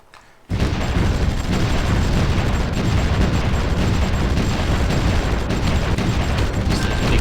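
Artillery fire in the war strategy game Supreme Ruler Ultimate, heard as a dense, continuous roar of booming explosions that starts abruptly after a brief quiet moment and stays loud throughout.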